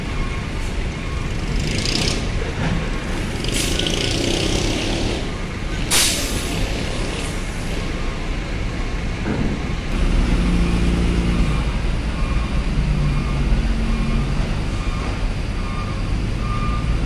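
An ALS bus engine idles and rumbles close by at a ferry port at night, with sharp hissing bursts of air brakes releasing and steady traffic noise around it.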